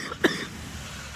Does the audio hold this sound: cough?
yes